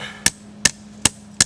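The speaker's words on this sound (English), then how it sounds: "I'm gonna need the bigger hammer." A bigger hammer, a survival tool, strikes four times in a steady rhythm about every 0.4 seconds, each blow a sharp, close, loud crack with no talk.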